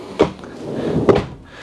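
Two quick drawer movements in a 2019 Newmar Dutch Star 4018 Class A diesel motorhome, each a short sliding clack, close by and spaced about a second apart, with no talk.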